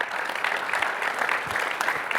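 A seated audience at an investor panel event claps to thank the panelists, a dense, continuous round of applause close by with no talking over it.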